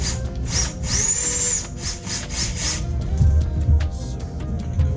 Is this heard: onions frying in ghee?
no